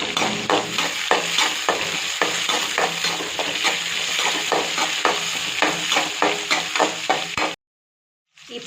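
Onions and green chillies fry in a pan with a continuous loud sizzle and rhythmic spoon-stirring scrapes, ending in an abrupt cut to silence near the end.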